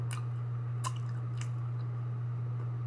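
Crab rangoon being chewed up close, a few soft crunchy, squishy bites over a steady low background hum.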